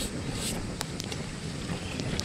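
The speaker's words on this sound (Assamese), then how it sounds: "খুব বতাহ পানী বাঢ়ি আছে" Strong wind over rising floodwater at Kaziranga, Assam buffets the microphone in a continuous low roar, with a few faint higher ticks above it.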